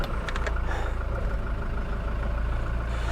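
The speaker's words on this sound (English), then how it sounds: "Start the engine and roll forward an inch." A vehicle engine idles on a farm, a steady, close, low rumble with an even hum that holds for the whole stretch without pauses or voices.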